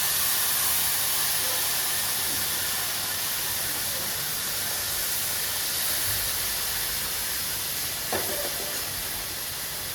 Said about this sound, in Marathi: आणि आता आपण टाकणार आहे ह्याच्यामध्ये गरम पाणी.